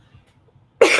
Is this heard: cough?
yes